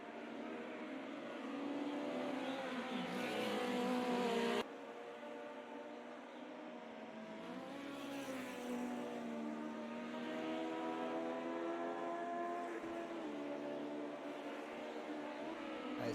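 Formula Junior race cars lapping Silverstone, a steady mid-distance engine drone with shifting revs and gear changes, one car swelling louder briefly before the tone carries on at moderate level without talk.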